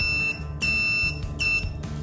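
The buzzer of an RF125-RL1 125 kHz RFID lock controller gives two or three sharp electronic beeps in a steady on-off pattern, close and clear, over a low background hum.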